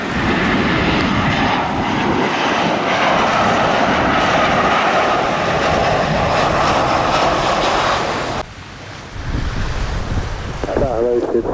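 A loud, roaring aircraft engine with rushing wind noise dominates as a plane lands on runway 27 at Gibraltar International Airport, then drops off sharply near the end, leaving quieter rumble.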